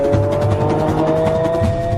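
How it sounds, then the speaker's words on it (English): A Lamborghini Aventador brakes hard on carbon ceramic brakes, a loud, close tire squeal with a tonal whine and engine rumble holding steady for about two seconds. "The Aventador's carbon ceramic brakes can take it from 100 kilometers per hour to a complete standstill within 30 meters."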